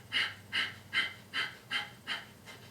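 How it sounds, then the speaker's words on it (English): Six rapid, forceful nasal exhales of Kapalabhati breath of fire, evenly spaced about half a second apart, close and alone with quick passive inhales between them. "First, I want to demonstrate Kapalabhati, the breath of fire."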